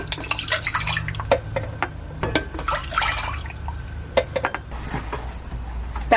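Lukewarm-free pour of water into a cooking pot for ramen, heard as irregular splashes and drips with sharp spattering bursts, close and fairly loud, without speech.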